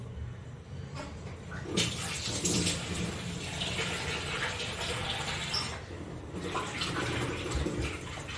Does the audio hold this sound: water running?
yes